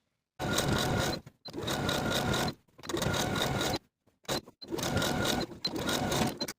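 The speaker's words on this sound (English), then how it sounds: "Then we can top stitch that hem in place all the way around just as we did for the bottoms of the sleeves with a 1/2 inch seam allowance" A sewing machine runs a wide zigzag top-stitch around a t-shirt hem in five loud, close bursts of rapid whirring, broken by short silent pauses.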